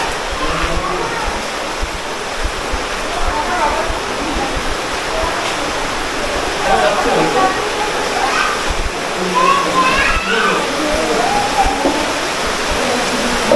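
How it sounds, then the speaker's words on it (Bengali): Water flowing down from a hillside along a channel, a steady loud rushing wash filling the whole clip, with a voice talking faintly over it. "এই জলগুলো কিন্তু পাহাড়ের ওপর থেকে বয়ে বয়ে আসছে, আর দেন এই নালা ধরে কিন্তু সোজা বাইরের দিকে চলে যাচ্ছে"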